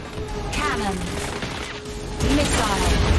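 Cannon weapon fire in the futuristic anti-gravity racer Wipeout, a burst of rapid shots over the steady hum of a hovering racing craft, with a second louder volley near the end.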